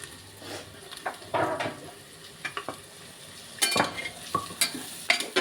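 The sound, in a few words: onion sautéing in a pan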